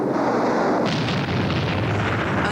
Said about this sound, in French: c'était une explosion de cinéma